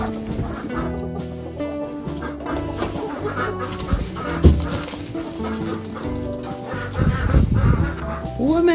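Chickens and a rooster on a Finnish homestead in January, with clucking calls scattered throughout and a rising crow near the end, close and fairly loud.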